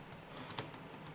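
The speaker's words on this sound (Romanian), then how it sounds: "Așa că voi tasta în browser acum" Keys tap on a computer keyboard while an address is entered into a browser during router setup, a quick run of soft, close clicks with one sharper keystroke.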